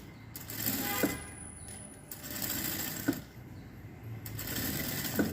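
A sewing machine edge-stitches a patchwork blouse piece with piping, running steadily in a continuous whir, with a few sharper clicks spaced through the run.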